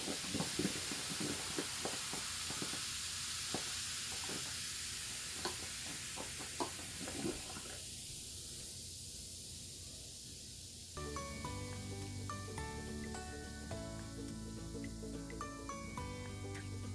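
Baking soda and vinegar fizz in a household drain, a steady bright hiss with crackling bubbles after a few splashy pours, then music comes in over the continuing fizz.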